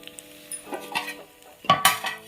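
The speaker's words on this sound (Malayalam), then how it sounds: "ഈ കലം പിടിച്ചിട്ട് ഇങ്ങനെ കുലുക്കി കൊടുക്കണം." A cooking pot of boiled tapioca is shaken, giving a few scattered metallic clinks and rattles that build into two louder bursts near the end, with no talking.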